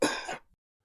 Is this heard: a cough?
yes